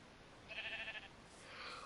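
Pink sheep in a game giving a short, faint bleat, followed by a second quieter bleat, with no talking over it.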